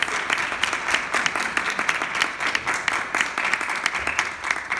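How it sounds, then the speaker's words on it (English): An audience applauding the candidates at the close of a 2018 presidential debate, dense steady clapping with sharp individual claps, near and loud, with no talk over it. "let's give both of our candidates another round of applause"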